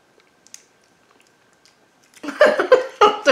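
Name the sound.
biting and chewing a food during a tasting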